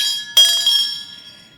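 A hand bell with a harsh tone, rung by a town crier in Kingston, gives a single struck clang with bright metallic ringing that fades away, heard alone.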